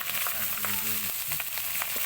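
Jute leaves hit a hot pan with rohu fish head and onion, giving a steady hiss of frying with bursts of crackle and stirring scrapes, close and continuous.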